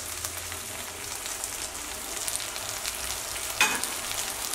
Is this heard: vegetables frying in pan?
yes